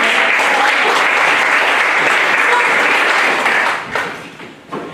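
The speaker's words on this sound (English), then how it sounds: "Round of applause." Applause from the audience at an annual high school speech and debate event at the Caledon Museum. It is loud and dense, holds steady for about four seconds, then thins out and fades.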